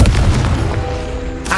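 A Confringo blasting spell detonates in Hogwarts Legacy as a heavy, booming explosion that rolls out loud and dense, its low rumble sustained before a sharper crack flares at the end.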